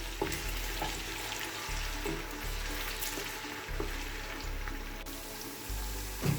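Onions frying in a pot for a Nigerian okra soup, a soft steady sizzle with occasional clinks and low thumps of stirring, fairly quiet throughout.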